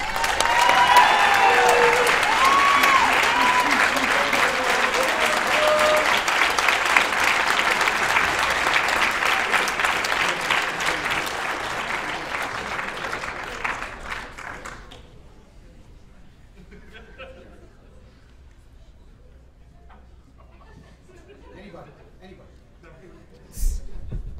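An audience at the CEDA 2014 awards ceremony gives Eric a rowdy, raucous round of applause, a loud sustained crowd clapping with cheers for about fifteen seconds, then fading to quiet room noise with a few scattered knocks and a sharp bump at the end.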